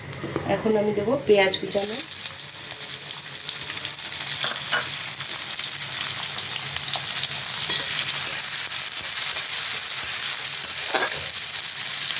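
Bay leaf, a whole chili and panch phoron hit hot oil with a loud crackling burst, then settle into a steady close sizzle with faint stirring scrapes throughout.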